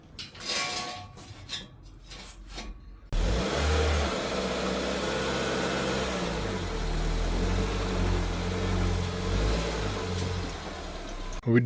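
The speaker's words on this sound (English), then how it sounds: "So let's get it up on the ramps." A Ford Figo's engine pulls the car up onto ramps, a loud sustained mid-pitched drone that rises as it climbs, following a few brief knocks and clatters at the start.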